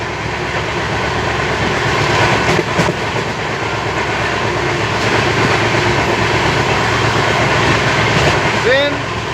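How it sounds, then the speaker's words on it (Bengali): The 12178 Mathura–Howrah Chambal Express rushes along at about 108 km/h through the Chambal ravines, heard from inside as a continuous loud rumble with rhythmic clickety-clack of wheels over rail joints and a faint squeal near the end. "ট্রেন 108 কিলোমিটার বেগে ছুটে চলেছে আমাদের 12178 মথুরা হাওড়া চম্বল এক্সপ্রেস।"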